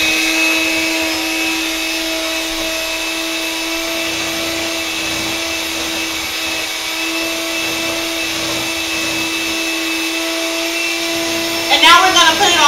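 A blender whirs at a constant high-pitched drone as it mixes a thick hair-grease frappe mix, running steadily and close throughout, with a brief rattling change near the end.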